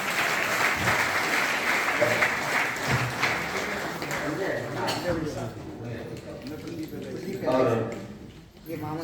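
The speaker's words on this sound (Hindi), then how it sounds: "तालियों के साथ" A crowd at a Jain religious discourse breaks into enthusiastic applause for a guest offering a coconut, dense clapping throughout with a voice speaking over it.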